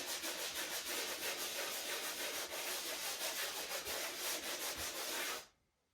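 Block sander rubbing over a drywall patch for a light final sanding, giving rapid, even back-and-forth scraping strokes up close that continue steadily for several seconds before stopping.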